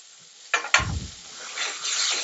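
Turmeric, coriander and chilli powder fry in a pan. Two sharp clacks are followed by a low scraping stir, then a soft steady sizzle continues close by.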